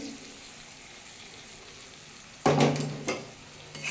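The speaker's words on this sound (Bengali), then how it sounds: "এটা দিয়ে বন্ধুরা ভালো করে কষে নিতে হবে।" Ground green pea paste sautéing in a wok at home, a low quiet sizzle that jumps into a louder burst of frying and stirring midway, followed by a few scraping stirs.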